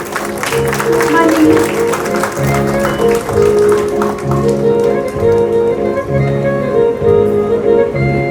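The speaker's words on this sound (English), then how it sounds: "Keep clapping to motivate our students." Dense applause from an audience at a school's annual prize distribution, cheering students as they are honoured, with steady clapping running throughout under a sustained musical tone.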